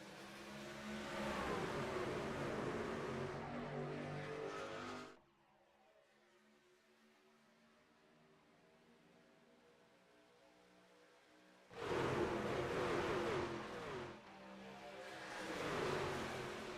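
Race trucks at Daytona in a sim racing game: a loud, sustained engine drone, then a few seconds of near quiet before the roaring engines return at full volume.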